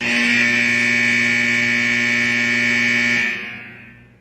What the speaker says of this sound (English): Can I assume there was a buzzer there?